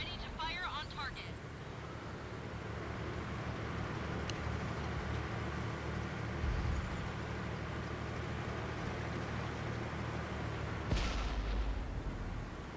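Repeated booming tank cannon fire and rumbling battle noise from a Conqueror tank match in World of Tanks, with a sharp loud blast near the start and another near the end, under constant low engine drone.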